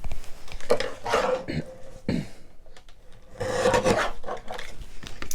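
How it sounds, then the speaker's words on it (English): A paper guillotine trimmer slices a thin strip off cardstock in two rasping, scraping passes, close and fairly loud, with sliding rubs and small taps between them. "just take my guillotine and just run right across the edge there and just cut a real tiny, tiny strip all the way across there"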